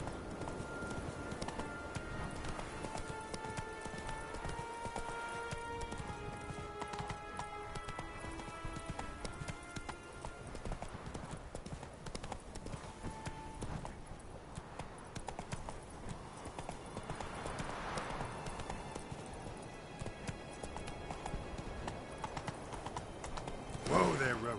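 Horse galloping in The Witcher 3, a continuous rapid clip-clop of hooves on the ground throughout, with game music and ambience underneath.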